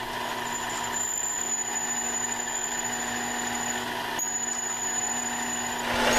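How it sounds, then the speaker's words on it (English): A metal shaft being drilled on a lathe to seat a dead center, heard as a continuous machine whine with a high, thin squeal that runs steadily, breaks briefly, then resumes, close and moderately loud. "So drilling this hole, I'll be able to put the dead center in there"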